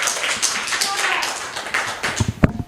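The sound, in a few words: group of schoolchildren clapping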